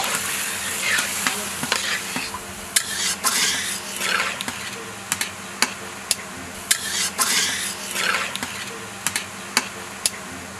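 Chopped onions sizzling in a pan as water goes in, with ongoing stirring that brings sharp clinks and scrapes of a utensil against the metal over a continuous frying hiss.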